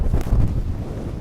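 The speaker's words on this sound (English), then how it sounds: "The wind is just ridiculous." Strong wind roars across a hilltop crag in Northumberland at sunset, a brief, steady, close buffeting against the microphone.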